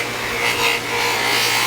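A Kydex holster edge pressed against a spinning buffing wheel, a steady, loud whirring hum with a continuous abrasive rasp that swells slightly, heard close and alone.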